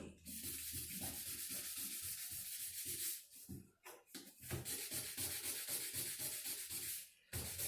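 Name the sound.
sanding with sandpaper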